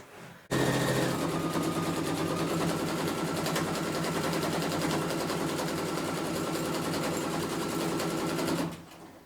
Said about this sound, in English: now I'm coming back and stitching up the rest of the pocket.